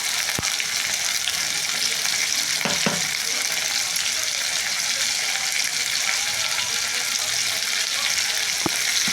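Tomato, ginger, dried red chilli, cumin and bay leaf sizzling in hot oil in a kadai, a steady close frying hiss throughout with a couple of brief clinks from stirring.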